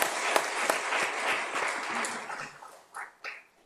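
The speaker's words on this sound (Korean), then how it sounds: "우리 박수로 환영하겠습니다." A church congregation claps to welcome a speaker after a prayer, a lively burst of many hands that thins out and fades to a few scattered, closer claps near the end.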